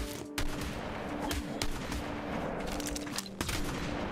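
Several sharp gunshots ring out in a video game as a man is shot down, the bursts loud and scattered over a steady background hum, with a few clustered cracks near the start, middle and end.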